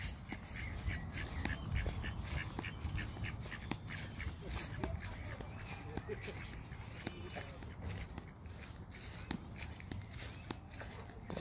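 Ducks in a park give off scattered quacks and calls over a steady outdoor bed of footsteps and bustle, while voices talk nearby throughout.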